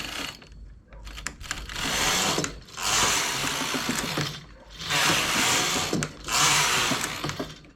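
A domestic knitting machine's carriage is pushed back and forth across the needle bed, knitting rows of plain stockinette, in four clattering, whirring passes separated by short pauses, close by.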